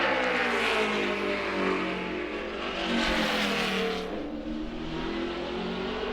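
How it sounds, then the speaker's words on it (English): A NASCAR Sprint Cup Chevrolet race car runs a qualifying lap at Martinsville with a loud, sustained engine roar that rises and falls as it accelerates and lifts through the corners, with no talk over it. "First lap on the Eco Fuel Saver Chevrolet"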